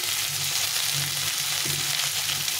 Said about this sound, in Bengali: এখন আমি করলাটা দিয়ে দেবো। এই সবগুলো একসঙ্গে ভেজে নেব, আলাদা করে ভাজবো না।